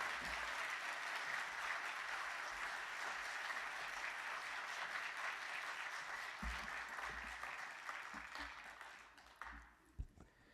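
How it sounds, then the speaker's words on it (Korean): A congregation at a special dawn prayer service in a church gives sustained, dense applause to welcome the pastor. The clapping stays steady and full for about nine seconds, then thins out and stops, with a few last claps. "우리 박수로 맞이해 주시기 바랍니다."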